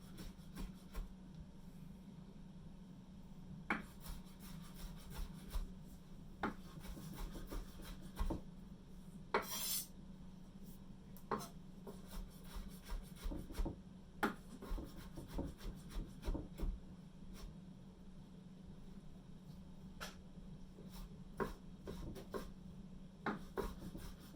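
A knife rock-cuts plum tomatoes on a cutting board, producing faint, quiet taps and soft scraping strokes in an irregular rhythm over a low background hum.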